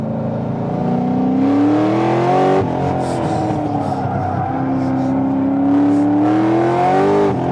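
A 700+ HP Corvette races on track, its engine revving hard and climbing in pitch, then dropping and rising again between shifts. The roar is loud and sustained, heard from inside the car, and no one speaks.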